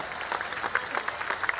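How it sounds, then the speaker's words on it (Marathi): A crowd at a public gathering gives brief, moderate applause, with a steady patter of many hands clapping for a moment. "टाळ्या।"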